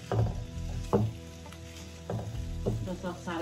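Chilli flakes sauteing in butter in a pan for pasta sauce, a steady close sizzle with rhythmic stirring scrapes.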